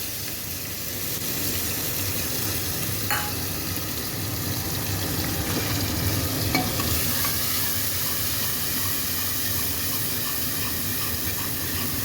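Steady sizzling and hissing of a spice tempering frying in hot ghee in a pan for chickpea curry, continuous and close, with a couple of faint clinks.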